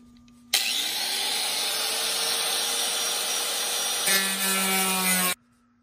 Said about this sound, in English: I'm going to use, cut off wheel here.